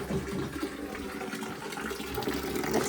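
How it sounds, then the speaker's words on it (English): Hot water runs from a household tap, filling a container with a steady rushing, splashing flow at close range, while a washing machine runs at the same time. "run some hot water"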